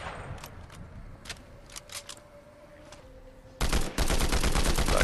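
Rapid bursts of assault rifle fire in Fortnite, a dense loud volley after scattered quieter single shots and building clatter, with a faint steady tone underneath.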